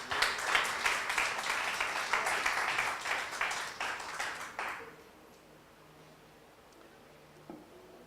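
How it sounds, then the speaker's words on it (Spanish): Church congregation applauding during a Sunday morning Spanish-language service, a dense burst of clapping that ends abruptly after about five seconds, leaving a quiet room with a faint tone and a small knock. "¿Por qué no le da un fuerte aplauso al Señor esta mañana?"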